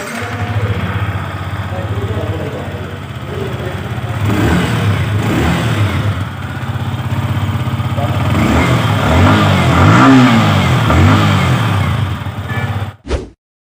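A Yamaha R15 V4 motorcycle engine idles with a deep exhaust burble, then revs up twice in rising surges before cutting off abruptly; loud and close.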